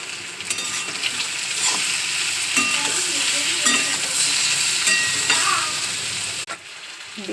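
Chopped onion frying in hot oil in a pan for a Bengali yogurt egg curry, with turmeric already in: a loud, steady sizzle that runs throughout, with occasional stirring scrapes.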